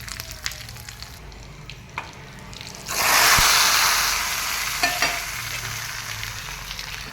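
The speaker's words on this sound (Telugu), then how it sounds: "ఇది కొంచెం వేగిన తర్వాత కొంచెం కరివేపాకు వేసుకోవాలి" Curry leaves drop into hot oil for a tomato rasam tempering and burst into a loud, fizzing sizzle that slowly settles, with stirring clinks and softer crackle before and after.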